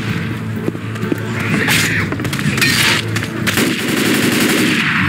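Rapid, loud gunfire from weapons in the Left 4 Dead 2 video game, sustained bursts filling the whole stretch with dense crackling shots and no talk.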